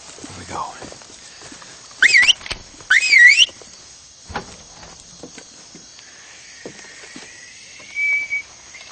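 A man whistles two short rising signal whistles, loud and close, amid quiet rustles and faint knocks, then a softer sustained whistle follows.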